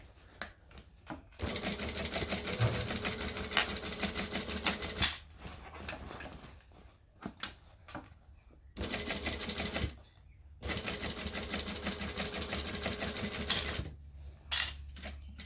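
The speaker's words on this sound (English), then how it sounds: "I'm going to go over 2 or 3 stitches and then back stitch" A domestic sewing machine stitches in short bursts: a steady mechanical whir runs for several seconds, stops, starts again in a brief back stitch, then runs on, with pauses and small clicks between.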